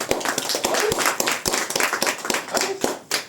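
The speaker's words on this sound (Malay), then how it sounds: "Tepukan." An audience at a sales presentation claps together in a brisk, uneven patter of many hands, close and steady for a few seconds.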